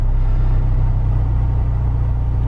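A modified Honda Civic Si engine idles steadily and smoothly, a close, constant low rumble with a regular pulse throughout, no voices.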